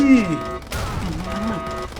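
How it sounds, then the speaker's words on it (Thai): A generator explodes during gunfire in the shooter game Modern Combat 3: Fallen Nation, giving a loud burst and crash, with voices talking over the action. "เครื่องปั่นไฟกำลังจะระเบิด"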